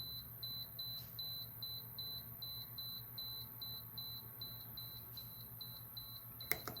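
A MakerHawk lithium battery capacity tester emits a steady, high-pitched electronic beep repeating rapidly in a regular pattern over a low hum, with a brief click near the end.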